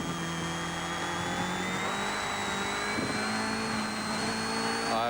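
High-pitched whine inside a Nissan Bluebird race car at the 1983 Bathurst 1000, steady and loud over continuous engine roar, with rising harmonic tones throughout.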